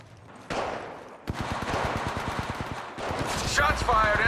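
Rapid automatic gunfire in Apex Legends Mobile, bursts of fast repeated shots close up, with game sounds and a voice speaking over the shooting.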